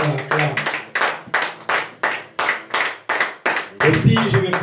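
A church congregation claps loudly for a priest, with rhythmic bursts of hand claps in strong waves and some voices mixed in near the end.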